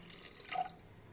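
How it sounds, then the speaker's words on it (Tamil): Water is poured into a cooking pot in a quick, faint splash and trickle, heard alone and close by for about a second. "இதுக்குள்ளேயே தண்ணியும் கூட ஊற்றிக்கலாங்க"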